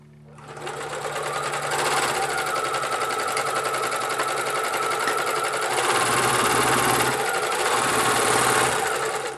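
An overlock sewing machine runs steadily, stitching the edge of a wig cap with a fast, even mechanical whir that holds close and loud for the full stretch without pause.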